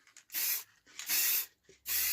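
Short bursts of spray finish hissing onto a plywood scroll-saw project with resin inlays, three separate sprays of about half a second each with brief quiet gaps between.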